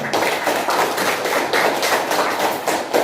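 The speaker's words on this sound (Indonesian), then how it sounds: "Tepuk tangan untuk semuanya dulu." Students clapping together in an Indonesian classroom lesson, a quick run of dense, fairly close claps with a lightly rhythmic pulse lasting a few seconds, with no talk.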